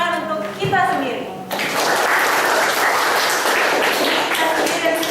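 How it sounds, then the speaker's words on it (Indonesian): A classroom of students applauding themselves after a teacher's spoken prompt; the teacher's voice comes first, then loud, dense clapping from many hands starts abruptly and carries on steadily to the end. "Nah, untuk itu kita tepuk tangan untuk kita sendiri."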